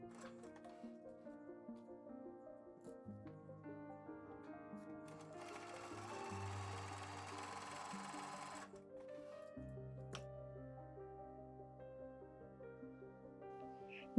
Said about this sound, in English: You can always go over these seams a second time to make them more secure,